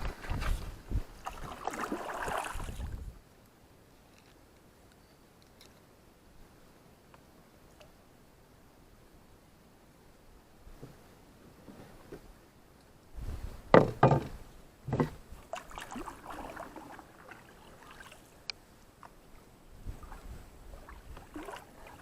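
A canoe shoving off and paddled upstream on a creek: a few close wooden knocks and water splashes at the start, a long quiet glide, then more bumps, clunks and paddle strokes near the end.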